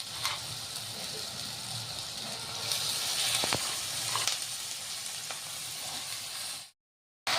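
Fenugreek leaves hitting a hot pan in home cooking, a sharp burst of sizzling and hissing with crackles and stirring scrapes that stays loud and steady, then cuts to silence near the end.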